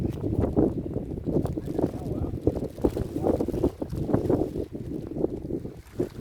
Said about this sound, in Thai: อากาศไม่ดีครับ ลมแรง สู้ไม่ไหวครับ